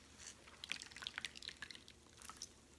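Homemade almond milk drips and trickles in quick, faint, irregular drops as the pulp is squeezed, soft and close with no talking.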